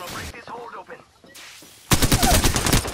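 A loud burst of rapid automatic gunfire in an Apex Legends match erupts after a short stretch of quiet voices and game sounds, then continues as a dense, close, rattling volley.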